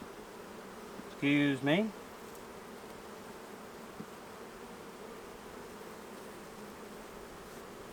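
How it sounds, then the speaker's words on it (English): Honey bees in an outdoor bee yard, opened for a swarm-season hive inspection, give a continuous low buzz, with a brief spoken phrase near the start. "look at all these fuzzy bees"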